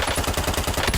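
Rapid gunfire from a Hemlock battle rifle in a video game, a quick burst of several loud, evenly spaced shots packed into about one second.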